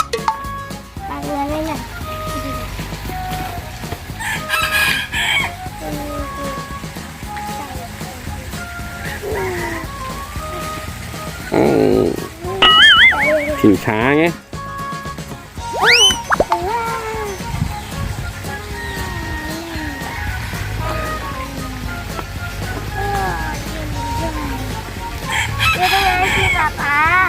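A rooster crows a few times, in the midst of a lively outdoor scene with people chatting and other birds clucking nearby.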